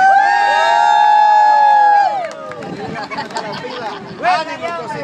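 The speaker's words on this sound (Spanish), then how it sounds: "vamos a dar un grito de júbilo para los cocineros para que se apuren" Church congregation at a Queens social gathering lets out a loud, sustained shout of joy for the cooks for about two seconds, then breaks into chattering crowd noise with scattered whoops and voices.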